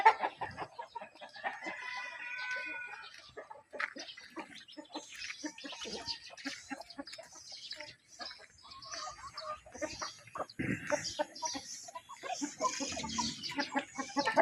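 Chickens cluck and chatter continuously, with several birds calling at once at close range and occasional brief higher squawks breaking through.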